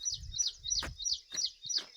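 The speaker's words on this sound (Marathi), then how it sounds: "पक्षी आढळलेत, मस्त आवाज यायला." Birds sing in the early morning on a farm beside sugarcane fields, a faint, bright chirping that repeats in short regular bursts, with low rustling in between.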